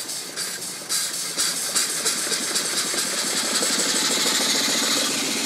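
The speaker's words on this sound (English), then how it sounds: "Got my steam engine running," A small steam engine runs steadily with continuous hiss and rapid rhythmic chuffing, close and loud, building slightly as it is cranked up, with no voices.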